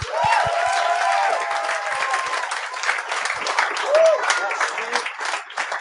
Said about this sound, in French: bonne main d'applaudissement pour Mehdi Boussaïdan et Julien Lacroix